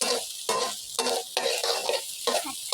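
Eggs stir-fried in a hot pan for fried rice with fermented pork, loud close sizzling broken by rhythmic scraping strokes of a spatula, roughly two per second.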